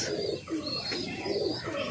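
Pigeons coo in low, rolling repeated phrases, close and steady with no talk, over a continuous soft background hiss.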